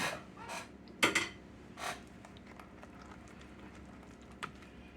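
Thin metal clattering and crinkling as a light aluminum throwaway pie pan is handled, a few sharp rattles early on, then quieter scattered taps.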